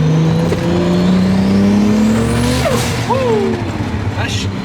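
A 700 hp Toyota Supra with a turbocharged JZ engine pulling hard under acceleration, its loud rising engine drone filling the cabin with a brief whistle-like turbo tone, while occupants talk over it.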